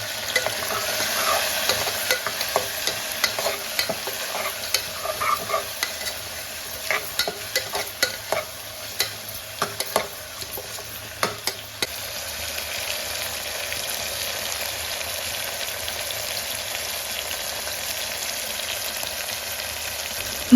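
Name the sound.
tomatoes being stirred and fried in a pan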